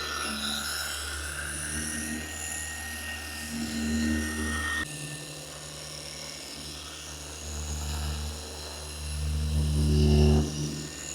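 A Rupes HLR75 rotary polisher runs at speed 3 across a car bumper, giving a continuous droning motor hum with a steady buzz that shifts slightly in pitch and swells louder toward the end.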